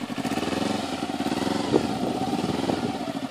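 Kawasaki Ninja 250 motorcycle engine pulling away in second gear, a steady mid-pitched drone held throughout with a brief rev bump partway, close and loud.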